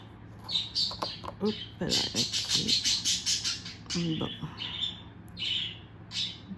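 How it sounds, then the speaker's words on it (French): A pet bird chirps and squawks in a series of short bright calls between bursts of nearby talk in a room, a few calls rising over the voices. "Mon oiseau adore jouer, surtout le matin."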